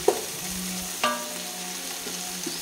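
Ingredients for a chicken biryani sauté in a pan with a steady, soft sizzle and a couple of light stirring knocks, no talking.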